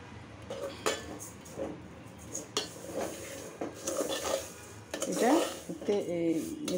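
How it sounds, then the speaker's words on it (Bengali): Lachha semai is stirred and fried in a pan, with scraping utensil strokes, metal clinks and a soft sizzle, a voice speaking intermittently. "এটা আস্তে আস্তে ভাজতে হবে।"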